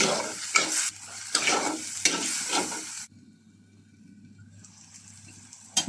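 Spice masala for prawn malai curry is stirred and fried in a pan: three loud scraping stir strokes over a steady sizzle, then the stirring stops and a quieter frying hiss continues alone.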